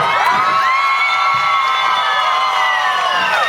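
A concert audience cheers and whoops for a band at a City Day outdoor show, a dense, loud crowd roar with high shouts throughout.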